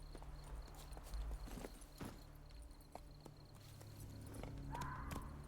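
Roach, the horse in The Witcher 3 video game, clip-clops at an unhurried walk, the hoof knocks soft and steady beneath quiet game ambience.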